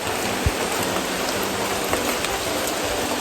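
Rain falls on a rubber plantation near hills: a dense, loud, continuous hiss of rainfall with a few scattered heavier drops, and no voices.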